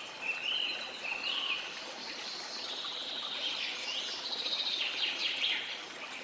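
Birds chirp and sing steadily near the Boota waterfall in the Kala Chitta hills of Attock, their calls carrying over a constant wash of flowing water, with no voices.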